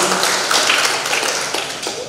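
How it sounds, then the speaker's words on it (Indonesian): Staff at a provincial communications office in NTT applaud the Governor during a work visit, a brisk burst of many hands clapping nearby that gradually tapers off. "Sekali lagi kita memberikan aplaus tepuk tangan untuk Bapak"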